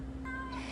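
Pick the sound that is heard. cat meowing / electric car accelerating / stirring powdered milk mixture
cat meowing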